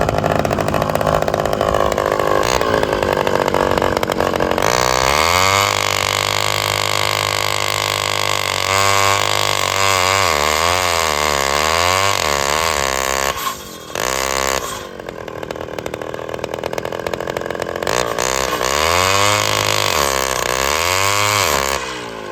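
A rare Homelite XL100 chainsaw, recently revived from a seized engine, roars loudly and continuously as it cuts a board, its engine pitch dipping and rising under load, with a brief drop near idle in the middle.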